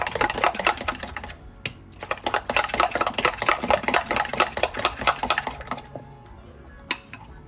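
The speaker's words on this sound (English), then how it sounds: "Let's mix this up well. You mix it up with a spoon, don't need a mixer or anything like that." A spoon stirs pecan pie filling in a bowl, giving a dense run of quick clinking, scraping strokes at close range, pausing briefly and then resuming, with no one speaking.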